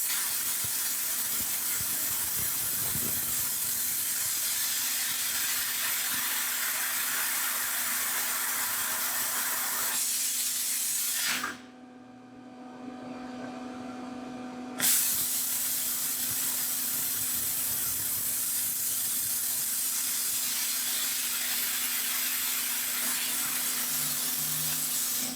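A Gweike 1200W laser cuts a piece of aluminium with a steady, loud hiss that runs for about ten seconds, breaks off into a quieter hum for a few seconds, then resumes just as loud.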